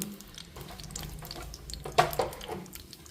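Cumin and mustard seeds sizzle and crackle in hot oil as they fry for a dal, a steady close hiss with a few sharper pops near the end and no talking.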